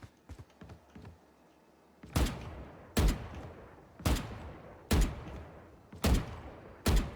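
Valorant gunfire at a practice target: a few quick clicks, then six loud single shots fired at a steady, roughly one-per-second pace, each with a short ringing tail, close and with no voices.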